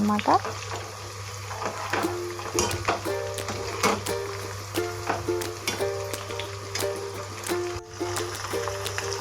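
Chicken 65 pieces frying in hot oil for an Andhra-style dish, a steady crackling sizzle with occasional clinks of a utensil against the pan, a low constant hum beneath.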